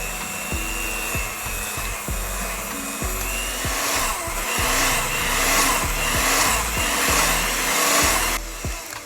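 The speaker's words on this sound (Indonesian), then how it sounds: "Aduk dan campur semua bahan ini menggunakan mixer" Electric mixer kneading banana bread dough in a bowl, with a steady motor hum and regular dull thumps as the dough slaps around roughly once or twice a second, continuing evenly throughout.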